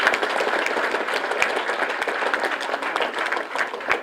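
Applause from a school quiz-final audience for both teams after a semifinal round, a dense, steady wash of many hands clapping that fills the room, with a few voices mixed in.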